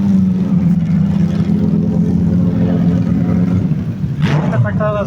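A heavy tractor engine drones loudly and continuously nearby at an agricultural fair, its pitch wavering slightly, with a voice breaking in briefly near the end.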